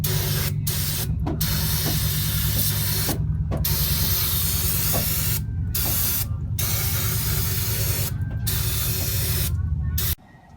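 Brake cleaner sprayed from an aerosol can into the open differential of a Jeep YJ, loud continuous hissing bursts broken by several short pauses, close up and with no talking.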